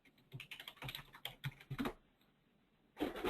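Someone types on a computer keyboard into a website search field, a quick run of close, clicky keystrokes for about two seconds, a pause, then another brief burst of keys.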